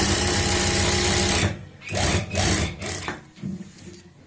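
A sewing machine stitches a kameez in a continuous fast whirring run, then stops and restarts in several short bursts, close and loud.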